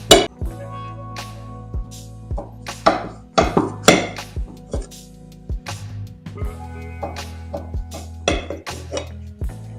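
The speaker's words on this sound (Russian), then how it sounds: "как я режу, слышно, да, как хрустит тесто" A knife slicing through a festive gata pie with crisp pastry and a nut and dried fruit filling, giving a series of sharp crunchy cracks and clinks against a plate, close and irregular, without talk.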